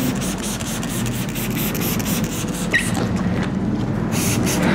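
Sandpaper rubbed by hand across a car headlight lens, making a steady, close, continuous scratchy rasp with no pauses.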